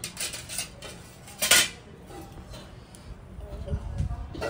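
Steel kitchen utensils clatter in a home kitchen as a small child hands them over, a few sharp metallic clinks with one louder clang, while people talk throughout.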